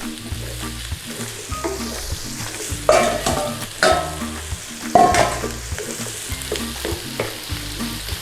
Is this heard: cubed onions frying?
yes